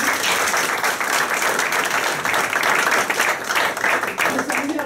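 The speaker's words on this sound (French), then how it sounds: "Applaudissez Gaël quand même." An audience at a stand-up comedy show applauds a performer named Gaël, a dense burst of clapping that swells and surges near the end, with faint voices mixed in.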